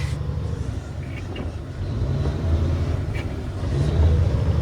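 A truck rolls along a muddy farm driveway, its engine giving a steady low rumble that swells slightly as it bounces over the uneven ground, with no talking.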